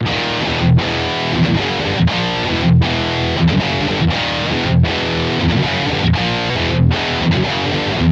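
Heavily distorted electric guitar on a super crunch amp setting with effects off, chugging through crunchy riffs, loud and dense, with brief gaps between phrases and no voices.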